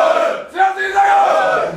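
Crowd at a Fallersleben folk and marksmen's festival in 2011 bellowing a loud, massed cheer, rising in swells, close and full, with no distinct talk.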